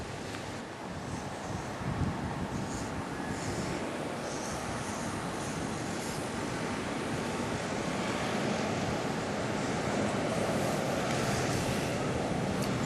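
Ocean surf washes continuously onto the beach at Bonny Hills, a broad steady rush with gusts of wind buffeting the microphone.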